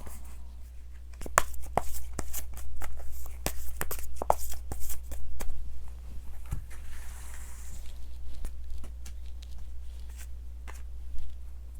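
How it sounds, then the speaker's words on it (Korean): Tarot cards are drawn from a deck, with a run of crisp close card snaps and slides over a low steady hum, then softer shuffling rustles toward the end. "추가 카드를 좀 뽑아보도록 할게요"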